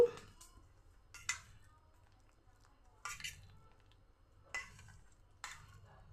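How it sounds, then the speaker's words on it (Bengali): Ground lentil paste being mixed by hand with salt and turmeric in a bowl, a few soft, separate clinks and squishy pats spaced a second or two apart, faint and close in a quiet kitchen. "মুসুরির ডাল বাটাটার মধ্যে আমি একটু নুন দিয়ে দিলাম দিয়ে দিলাম কিছুটা হলুদ গুঁড়ো দিয়ে মেখে নিচ্ছি"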